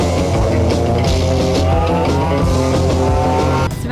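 A restaurant bus on a Paris sightseeing tour pulls away, its engine loud and close, rising steadily in pitch as it gathers speed, with a brief drop at the very end.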